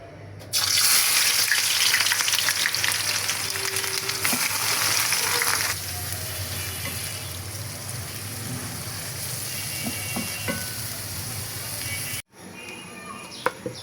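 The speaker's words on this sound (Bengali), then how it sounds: "তেলটা গরম হলে পেঁয়াজ দিয়ে দিব, বেরেস্তা করব।" Sliced onions fry in hot oil for beresta, a loud close sizzle that swells up at once and then settles into a softer, steady hiss with small clinks, briefly cutting off near the end.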